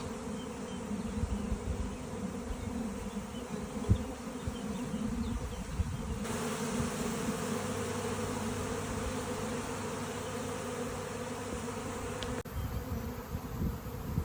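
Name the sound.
swarm of honeybees flying about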